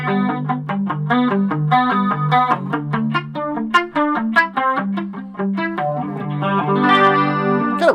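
Electric guitar played through a Roland Micro Cube amp with a chorus-like effect, a busy run of picked notes and chords that stays loud and steady throughout, with no talking.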